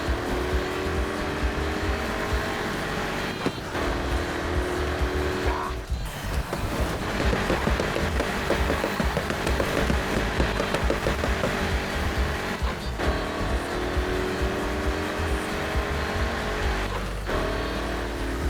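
Race car engines in the video game Need for Speed Heat, a continuous loud roar with rising and falling revs and periodic gear-change dips over a long run.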